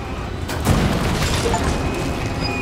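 Catapult launching in Resident Evil 4, a single heavy boom near the start followed by a rumbling, noisy tail that stays loud and dense to the end.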